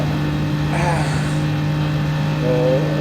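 A Mercedes SLS AMG race car at the Nürburgring, its engine droning steadily and loudly as it accelerates in a slipstream, with a commentator talking over the constant roar.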